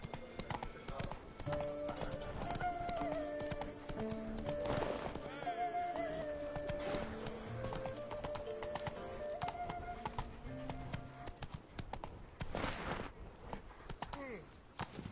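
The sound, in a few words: horse Roach galloping in video game The Witcher 3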